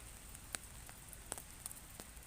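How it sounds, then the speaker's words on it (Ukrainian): Rain falls in a local park as a faint, steady wash of patter, broken by a few sharper drips and ticks. "Зараз паде дощ."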